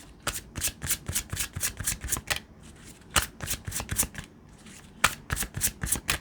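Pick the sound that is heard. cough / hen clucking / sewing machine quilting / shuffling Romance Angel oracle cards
shuffling Romance Angel oracle cards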